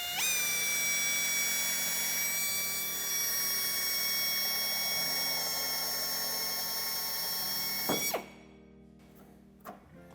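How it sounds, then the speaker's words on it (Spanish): A power drill cuts through the plastic rear bumper of a 2014 Volvo XC90 while a tow hitch is fitted. A steady, loud, high whine runs for about eight seconds, then stops, leaving a few faint clicks. "haciendo presión sobre el taladro cortaremos este trozo"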